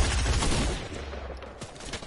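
Gunfire in a Call of Duty shooter game: a rapid burst of automatic shots up close at first, then fading to scattered, more distant cracks.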